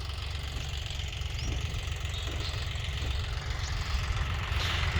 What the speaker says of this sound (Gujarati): ટ્રેક્ટર ચાલુ છે.